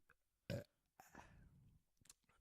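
Two loud belches, a sharp one then a longer drawn-out one, followed by a third brief burp, close up in a quiet room.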